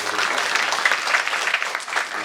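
Audience at a philosophy lecture breaks into steady, moderately loud applause, an even patter of many hands with no talk over it.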